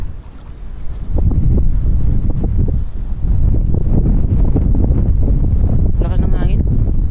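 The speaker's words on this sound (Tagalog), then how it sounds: "Lakas ng hangin." Strong wind buffets the microphone beside a river, a loud continuous roar and rumble with people talking over it and a short whistling squeal near the end.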